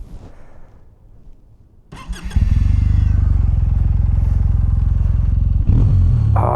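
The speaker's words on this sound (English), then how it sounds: "I love an air-cooled engine." A Kawasaki W800 air-cooled motorcycle with dual exhaust starts up after a quiet stretch of road noise, then settles into a loud, steady, throaty idle close by, with a brief blip of revving near the end.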